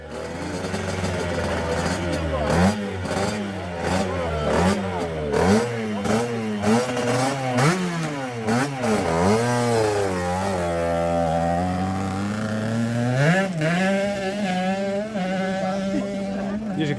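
A two-stroke twin-cylinder 125cc motocross engine revs repeatedly, its pitch rising and falling in sharp bursts, loud and close, with a voice speaking over parts of it.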